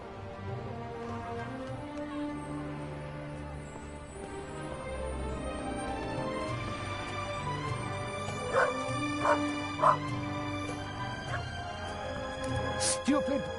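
A dog in The Raven Remastered on PS5 barks and whimpers with short yips, set against steady game music and ambience, with a few louder bursts near the end.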